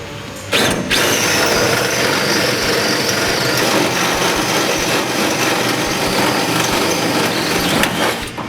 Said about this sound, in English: going to take and drill the welds out for our deck lid hinge reinforcement